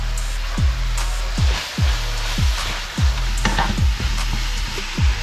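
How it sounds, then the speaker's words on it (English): Sliced carrots dropped into a hot pan for spaghetti sauce, sizzling and frying steadily, with repeated low thumps and stirring scrapes at a regular pace, loud and close. "I'm gonna take my carrots, I'm gonna dump those in"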